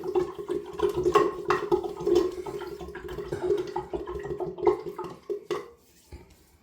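A bathroom sink drains with a continuous gurgling, sloshing rush of water, fairly close and steady, tapering off near the end.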